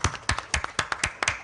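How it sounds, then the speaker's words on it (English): Audience in a hall at an eye surgery workshop clapping, giving a short burst of about a dozen sharp, fairly even hand claps at a brisk rhythm, close and clear with no talk over them. "a big round of applause for you from the whole house"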